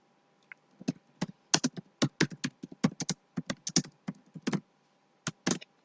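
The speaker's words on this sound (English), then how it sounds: "And I'm going to type." Keys on a computer keyboard clatter in quick, irregular bursts of typing, close and distinct against a quiet background, with a brief pause near the end.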